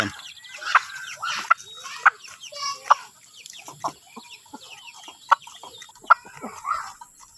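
A Rhode Island Red hen back to laying eggs clucks repeatedly at close range, short throaty clucks in an uneven rhythm with a few sharper calls mixed in.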